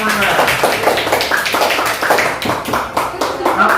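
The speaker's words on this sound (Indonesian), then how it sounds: "Beri tepuk tangan untuk teman-teman." Students in a classroom clap for their classmates, a short burst of fairly loud, close hand claps with overlapping voices underneath.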